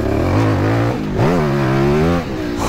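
A twin-cylinder Aprilia 450 MXV off-road motorcycle engine revs loudly up close, rising and falling in pitch with a rough, throaty drone for a few seconds, with no talk.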